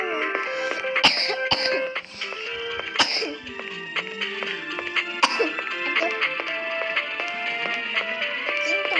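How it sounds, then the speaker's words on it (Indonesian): Repeated coughing and throat clearing from a sick person, several short harsh bursts spread across the clip, close and fairly loud over a murmuring indoor background. "Kamu sakit apa? Sakit batuk."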